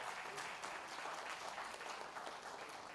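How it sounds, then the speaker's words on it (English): Applause from an audience at a health conference in Dubai, a steady, dense patter of clapping that stays even across the whole clip but sounds quiet overall. "Yes, let's keep that applause going."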